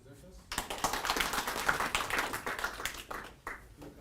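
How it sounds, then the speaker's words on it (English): Applause for presenters at an international scientific conference, a steady burst of many hands clapping for about three seconds before fading, with faint room voices. "Let's give another round of applause to all the presenters."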